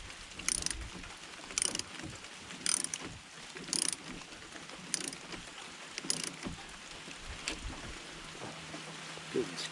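A ratchet wrench tightens a bolt on a Ford F-350 Super Duty 6.8L Triton V10 alternator, giving short bursts of sharp clicking in an irregular rhythm, close and fairly quiet.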